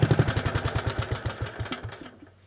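The engine of a rare three-wheeler, started for the first time in 15 years, idles with a close, rapid, clattering putter, then slows and cuts off, leaving a faint hum.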